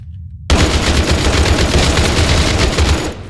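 Sustained automatic AK-47 fire in a video game breaks out after a brief silence, a loud, dense rattle of rapid shots lasting about three seconds before it cuts off.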